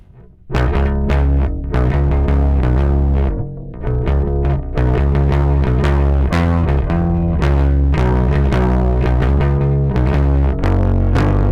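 An electric bass is played on a clean tone without distortion in steady, continuous note runs with a strong low end, close and loud, with no voices.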